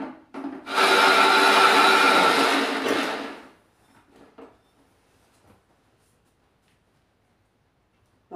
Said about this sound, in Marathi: आणखीन वाटून घेऊया.